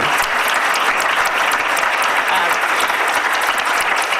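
Steady, sustained applause from a seated audience for a charity symposium panel, dense clapping continuing evenly without pause.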